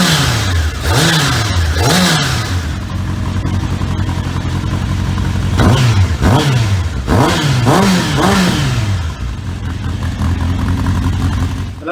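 A Honda CBR1000F motorcycle with new aftermarket mufflers revs repeatedly, sharp throttle blips rising and falling in quick pairs and bursts over a steady idle, loud and close, with no talk.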